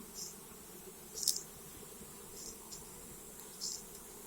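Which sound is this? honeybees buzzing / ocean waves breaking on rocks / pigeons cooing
honeybees buzzing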